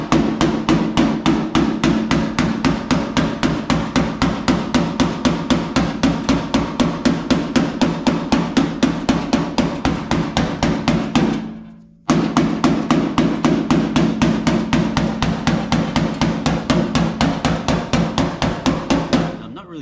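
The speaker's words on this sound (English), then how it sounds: "Putting a lot of strike in the hammer, it's almost kind of just bouncing off the metal." A hammer strikes the sheet-metal fender of a 1964 Impala in rapid, steady blows, loud and close, with a brief pause midway before the rhythmic pounding resumes.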